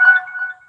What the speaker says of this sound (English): Oh, now my phone is buzzing and beeping.